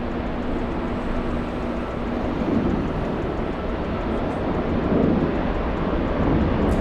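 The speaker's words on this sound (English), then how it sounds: "Emirates A380." An Emirates Airbus A380 airliner at LAX gives a loud, sustained low jet rumble with slow swells of roar, continuous and unaccompanied by speech.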